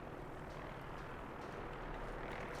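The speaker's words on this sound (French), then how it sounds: "Il y a un hélico qui passe là." Steady, broadband rotor rumble from a helicopter passing overhead in the video game Fallout 4, fairly distant and continuous, swelling slightly toward the end with no talking.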